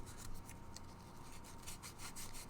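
Steady abrasive rubbing of sandpaper worked back and forth over wood, a continuous close rasp with faint rhythmic swells and no voices.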